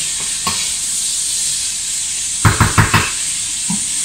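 Eggplant sears in olive oil in a pan for a homemade ratatouille with garden vegetables, giving a steady, close hiss of sizzling oil broken by a quick cluster of soft utensil knocks.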